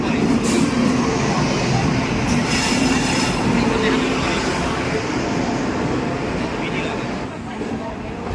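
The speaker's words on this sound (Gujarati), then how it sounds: "સો ગાઈસ ટ્રેન આવી ગઈ છે અમારા ભાઈની" A train arriving at a station rumbles steadily close by with a dense rolling roar and faint metallic squeal, voices chatting over the noise.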